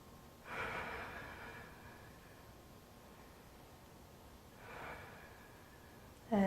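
Two slow, deep breaths during a standing yoga flow, soft and airy close to the mic with a long quiet gap between them, over faint room hiss.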